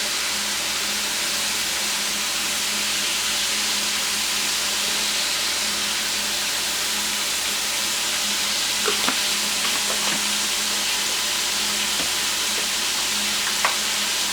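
80-20 ground beef frying in a pan, a steady close sizzle and hiss that runs throughout, with a few faint clinks and stirring scrapes near the end.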